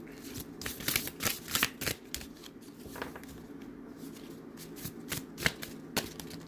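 A Gods and Titans oracle card deck is shuffled up close, giving bursts of crisp riffling and flicking cards with brief pauses, alone and without speech.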